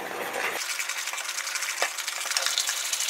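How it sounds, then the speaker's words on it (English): A whisk stirs matcha green tea powder into dry ingredients for green tea brownies, giving a steady, close scraping rustle with a couple of brief clinks against the bowl, heard alone for about three seconds. "since I'm going to use a whisk to mix the ingredients together"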